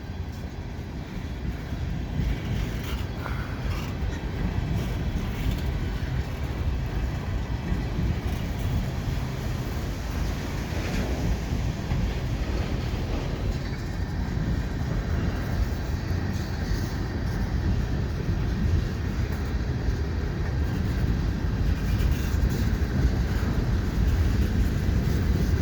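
A CN freight train rumbles steadily across the Lachine Canal bridge approach on a grey winter day, a continuous loud low roar of rolling cars with no talk.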